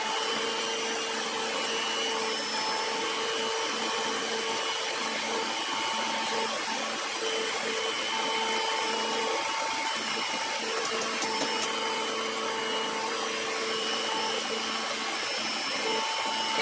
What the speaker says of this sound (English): Can't tell you how much I appreciate this stand mixer now that I got one.